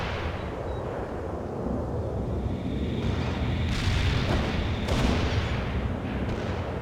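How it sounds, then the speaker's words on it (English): Mobile mortar barrage in the war strategy game World in Conflict: a continuous rumble of distant booming impacts and explosions with occasional sharper blasts, no voices. "Mobile mortar. The barrage is on the way."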